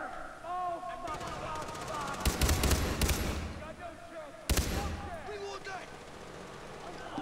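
Gunfire from Far Cry 3, heard as bursts of rapid automatic fire and several sharp single shots among in-game ambience, loud and close.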